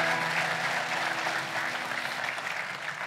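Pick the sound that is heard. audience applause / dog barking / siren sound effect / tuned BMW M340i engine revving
audience applause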